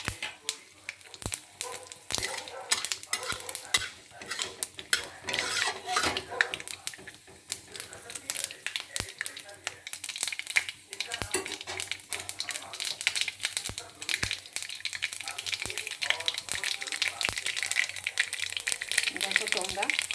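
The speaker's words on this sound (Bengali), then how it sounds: "দেখো তোমরা সুন্দর ভাজা হচ্ছে, ফটফট করছে।" Black mustard seeds fry in white oil in a wok, giving a continuous sizzle broken by sharp, scattered pops and sputters at close range for the whole stretch.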